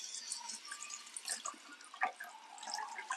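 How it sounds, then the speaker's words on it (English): Hot water runs and splashes into a mixing bowl in a home kitchen during cupcake baking, a faint steady trickle with scattered drips and small splashes. "Put some hot water straight into it because that way it will be easier to wash it up"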